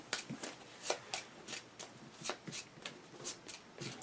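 Gloomhaven board game cards are shuffled by hand in a quiet room, a rapid series of crisp riffling bursts repeating about every half second, fairly close and soft, with no talking.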